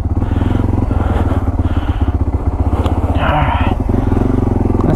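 A Yamaha TW200 motorcycle engine runs steadily up close, a loud, even low thumping pulse throughout with some clatter, no one talking.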